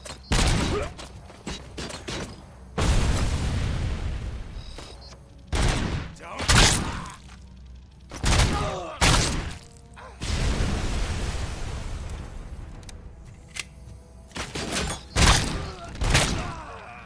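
Shootout gunfire in the RoboCop: Rogue City video game, with loud bursts of shots and heavy impacts in irregular clusters through the clip, mixed with mechanical clanks and brief shouted voices.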